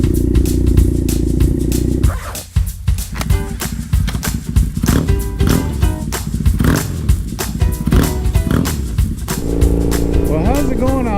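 A cold Triumph Thruxton motorcycle engine cranks and tries to start, needing choke, with sputtering rhythmic pulses close by and someone talking over it.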